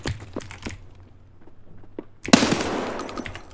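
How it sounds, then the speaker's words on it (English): In the Escape From Tarkov video game, an SA-58 rifle lays down suppressive fire, first as scattered single sharp cracks, then as a sudden loud, dense burst of gunfire that keeps roaring to the end, with no voices. "Suppressive fire!"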